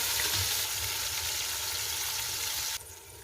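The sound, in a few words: chopped tomatoes cooking in a pan for beef biryani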